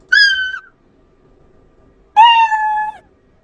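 Scratch's built-in cat meow plays twice, first at a raised pitch as a short bright mew, then after a pause of silence at normal pitch, longer and lower, both clean and alone.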